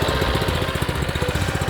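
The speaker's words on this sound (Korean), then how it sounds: "당겨주시면 시동이 됩니다." A paddy levee weeder's small engine runs right after a pull on its recoil starter, a loud, close, steady chugging with a fast regular pulse and no voices.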